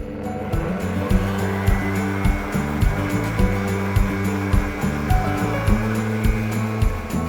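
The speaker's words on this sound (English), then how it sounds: "you can blend it on smoothie mode at medium speed for about a minute until it's really pale and fluffy" Blender whipping eggs and coconut sugar for egg nog at medium speed, a steady motor whir with a rhythmic chugging pulse repeating about every half second as the mixture churns.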